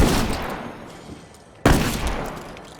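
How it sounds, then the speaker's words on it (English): Shotgun blasts in the video game State of Decay 2, two loud, close booms roughly a second and a half apart, each trailing off into a decaying rumble, with no voices. "The shotgun fires pretty quick,"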